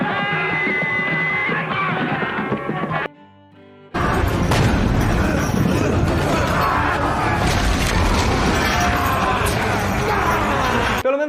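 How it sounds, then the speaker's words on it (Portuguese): A cannon fires chain shot during a film naval battle scene, with heavy booms, crashing and shouting voices in a loud, continuous din, broken once by a brief quiet drop before the roar resumes. "os canhões podiam disparar 2 bolas presas por uma corrente"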